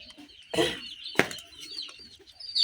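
Native chickens on a small farm give a couple of sharp, brief clucks or squawks about half a second apart, close by, followed by faint scattered chatter and no speech.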